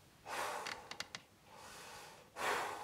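A person breathes deeply in a guided session, with long audible inhales and exhales, a few short sniffs between them, close and clear with no talking.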